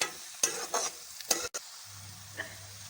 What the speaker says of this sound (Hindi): अदरक और लहसुन को अच्छी तरह से भून लेंगे।